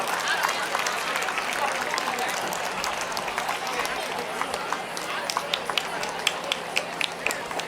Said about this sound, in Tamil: ஒரு அழகான ஒரு கைத்தட்டல்கள் கொடுக்கலாம்